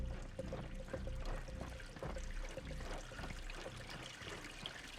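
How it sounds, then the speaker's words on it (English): Running water trickles and pours steadily in the game Lifeless Moon, a faint, continuous flowing wash with a soft tonal hum underneath. "I hear some running water."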